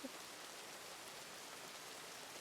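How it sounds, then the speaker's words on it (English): Rain falls steadily outside a manor during a dinner party, a soft, even hiss that stays faint and constant throughout with no voices over it. "It's raining."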